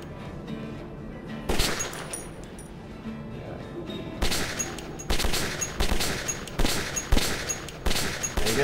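Gunfire from a shooter game, Metro 2033: a string of sharp, loud shots fired one at a time with short pauses between them, each bang standing out clearly against a low rumbling game backdrop.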